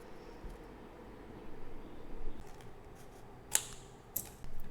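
Scissors cutting paper for a junk journal: a few quiet snips close by, the two clearest near the end, over a low hiss of room noise with no talking.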